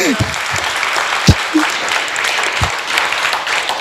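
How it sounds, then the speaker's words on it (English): Crowd applause at a Bettakultcha presentation evening in Huddersfield, a continuous wash of clapping with a few louder thuds and brief voices or cheers over it. "let's have a round of applause for Muzz and Sid Sharma"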